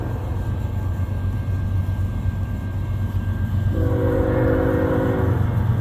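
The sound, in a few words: CN freight train passing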